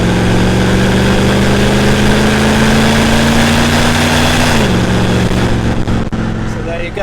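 Rover P5B Coupe engine working hard under kickdown acceleration on an open road, a loud steady drone that climbs in pitch and then drops as the gearbox shifts, with wind and road noise throughout.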